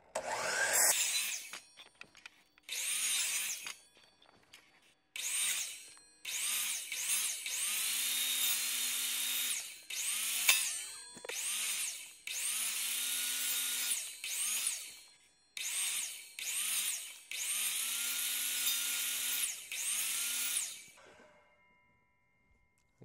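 Saw cutting through wood, with long bursts of harsh, buzzing cutting noise separated by short pauses, close and fairly loud, ending abruptly.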